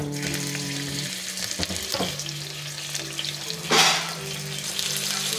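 Beef tapa frying in hot oil in a pan, giving a loud, close, continuous sizzle with brief bursts of spattering and stirring, no voices.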